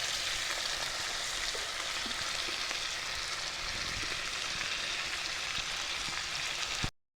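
An omelette with onion and tomato sizzles in a pan, a steady, even frying hiss with no talk that stops abruptly near the end.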